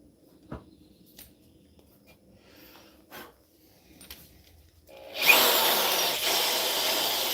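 A power drill bores into wood for a handmade Gandalf-style pipe: a few soft taps and knocks, then the drill bites in loud and close with a sustained rough grinding whine to the end.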